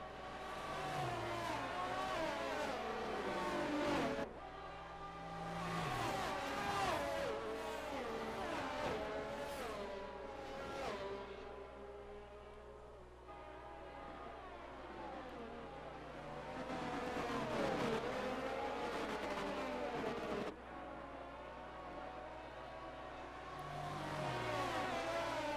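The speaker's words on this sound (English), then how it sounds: "He's just constantly revving it up on the onboard cam." An F1 race car engine in a video game at Monza revs hard and almost nonstop, with gear shifts and rising and falling pitch, loud and close as if from an onboard camera.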